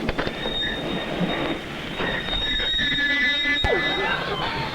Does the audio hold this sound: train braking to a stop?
yes